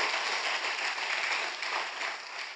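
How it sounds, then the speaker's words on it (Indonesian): Church congregation giving lively applause to God during a sermon, a full, bright wash of clapping that holds strong and tapers slightly near the end. "Tepuk tangan yuk sekali lagi yang paling meriah buat Tuhan kita."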